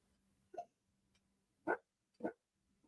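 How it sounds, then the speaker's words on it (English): A dog having a bad dream lets out three short, muffled yelps or soft barks, spaced apart, faint and close, with quiet between them. "Oh, my dog is having a bad dream. I can hear him in there."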